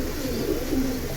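Silver pigeons give low, rolling coos in a shop setting, a soft continuous burble close by with no talking.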